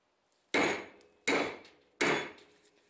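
Three sharp hammer blows, evenly spaced about three quarters of a second apart, pound wheel studs out of a first-generation Dodge Cummins hub, each strike close, loud and ringing briefly before fading.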